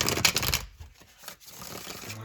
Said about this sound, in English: I'm going to go ahead and give these cards one more shuffle